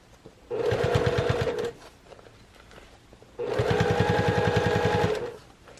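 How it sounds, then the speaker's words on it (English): A sewing machine top-stitches through a vinyl-lined cosmetic bag in two bursts of rapid, even needle clatter, each lasting a second or more, separated by a short quiet pause, close and clear. "I'm just top stitching it right down, tucking it with my thumbs"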